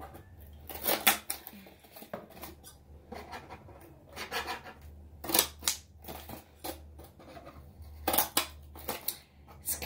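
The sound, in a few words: cutting corner pieces off a cardboard shipping box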